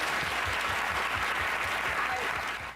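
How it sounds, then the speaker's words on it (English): Audience applause filling the room, a dense continuous roar of many hands clapping at steady volume, fading slightly at the very end. "And they all applaud"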